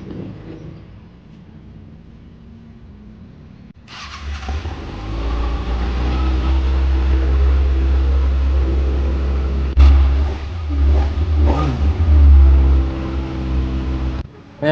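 A 2023 Kawasaki Ninja ZX6R KRT Edition fitted with an Austin Racing exhaust starts from a quiet idle, then runs with a deep, loud engine drone. Several sharp revs swell and fall back before the sound cuts off.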